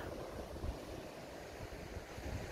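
Waves and wind at a beach on Little Talbot Island State Park: a constant broad roar of surf with gusty wind rumble on the microphone, steady and unbroken, with no voices.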